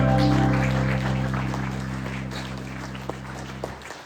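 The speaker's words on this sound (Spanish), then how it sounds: "Den un fuerte aplauso al Señor" Sustained applause from a church congregation, loud at first and slowly fading, with steady low instrumental tones underneath and a few sharp claps near the end.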